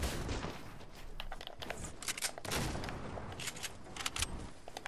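Repeated sniper rifle shots in the video game Fortnite, sharp cracks scattered irregularly over dense background game noise, some near and loud, others fainter.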